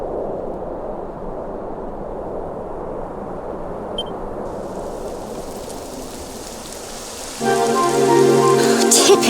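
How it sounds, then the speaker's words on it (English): Steady, fairly loud rain hisses and patters across a Dragon Quest XI game scene for the whole stretch, with a brighter layer of tonal game sound joining near the end. "Typical. It would have to go and start raining, wouldn't it?"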